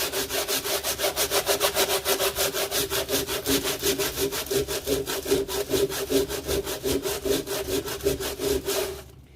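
Hand sanding of layered paint off a surface, a steady rhythmic back-and-forth scrape with roughly even strokes, close and loud throughout, ending abruptly near the end.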